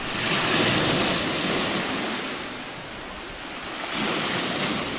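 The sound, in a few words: sea waves on a rocky beach in Crimea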